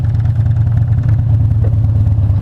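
A Harley-Davidson motorcycle engine runs steadily up close, a loud, deep, continuous rumble with a throbbing low-end pulse and no voices over it.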